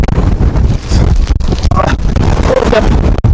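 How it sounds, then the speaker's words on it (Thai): Strong wind buffets the microphone on an exposed rocky mountain trail at Khao San Aen in Tak, a loud, continuous gusty roar with no voices. "ลมแรงมาก"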